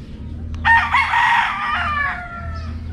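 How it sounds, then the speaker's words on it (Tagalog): A backyard rooster crows once, a clear mid-distance cock-a-doodle-doo lasting over a second, over a low steady background hum. "Itong 7 manok ni Boss Don Colanay"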